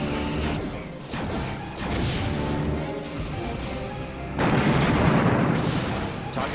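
Starship torpedoes firing in the Star Trek: Bridge Commander space combat game, a run of heavy booming launches and crashing impacts, loud and close, with a denser barrage swelling near the end.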